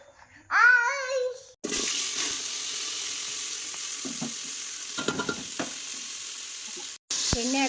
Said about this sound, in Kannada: ಎಣ್ಣೆ ಹಾಕ್ಕೊಂಡು ಸ್ವಲ್ಪ ಎಲ್ಲನೂ ಫ್ರೈ ಮಾಡ್ಕೊತಾ ಇದ್ದೀನಿ.